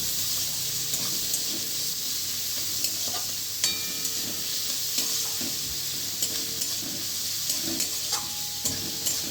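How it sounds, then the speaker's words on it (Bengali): Onions fry in hot oil with a continuous, close hiss and crackle, while light clinks of a stirring spoon come through at intervals. "এরপরে আমি পেঁয়াজ দিয়ে দিচ্ছি তেলের মধ্যে। পেঁয়াজগুলোকে ভেজে নেব।"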